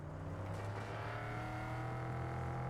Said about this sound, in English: some of the sounds of the cars are just awesome